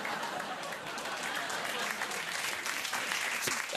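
A late-night comedy show's studio audience breaks into steady, moderately loud applause that holds evenly for a few seconds, a dense wash of clapping with faint crowd murmur.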